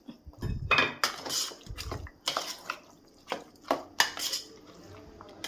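Irregular metallic scraping and clinking of a spoon against a steel vessel while mixing curd rice with water, with brief pauses between strokes.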